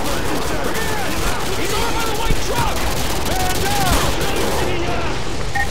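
Continuous gunfire from the shooter game Call of Duty: Modern Warfare 2, loud and dense, with overlapping shouting voices throughout amid the battle.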